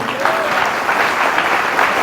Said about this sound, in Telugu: అలా విన్నాను అనుకున్న వాళ్ళు గట్టిగా చప్పట్లు కూడా అండి.